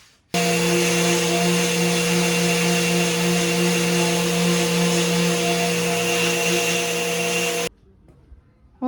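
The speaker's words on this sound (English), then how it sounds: "we'll see how it turns out after a nice little sanding here" A power sander whirs loudly at a steady pitch for several seconds on a salvaged wood wainscotting panel, then cuts off abruptly, leaving near silence; no voices.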